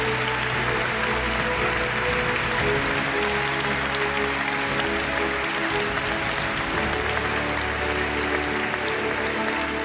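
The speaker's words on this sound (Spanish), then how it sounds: "Un aplauso fuerte para ellos todos" Steady applause from the audience at a national canoeing gala for the award winners, continuous and even throughout, mixed with a sustained background hum and tones from the hall.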